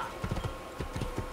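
Horse hooves clip-clopping on a street in the video game Assassin's Creed, a steady rhythm of soft, muffled hoofbeats at moderate distance over a low ambient game bed.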